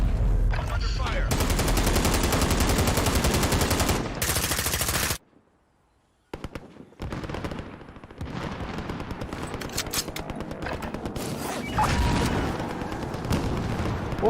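Rapid bursts of automatic gunfire and heavy shots in a Call of Duty match, loud and close, broken by a brief near-silent pause before more sustained firing and booms; voices talk in between.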